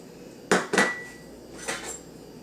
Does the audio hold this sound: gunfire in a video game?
no